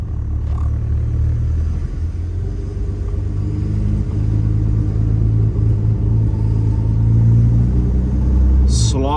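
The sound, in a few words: XF barn find car engine running on the road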